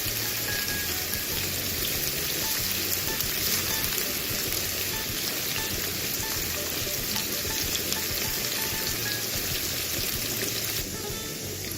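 Onions frying in a pan for pilau while being stirred, a steady, loud, unbroken sizzle crackling throughout, with faint scraping beneath it and no break in the hiss.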